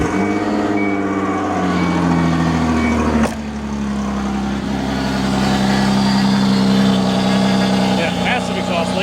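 A 2001 Ford Escape engine runs with a massive exhaust leak, giving a steady loud drone with harsh buzzy tones and a brief sharp click partway through; a voice talks over it.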